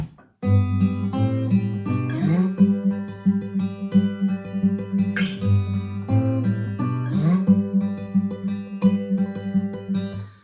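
Acoustic guitar fingerpicked classical-style with thumb, first and second fingers in a steady pattern, a plucked bass line alternating with higher notes, close and clear with no voices.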